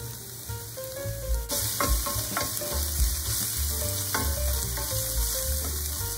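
Onions and seasoning caramelizing in a pan for lentil burgers, a strong continuous sizzle with scattered utensil clicks and stirring scrapes, close and alone.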